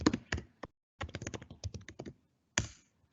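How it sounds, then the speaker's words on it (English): Someone types a message on a computer keyboard: short bursts of crisp, close key clicks with brief pauses between them, no voices. "So I'm typing a message to Benny"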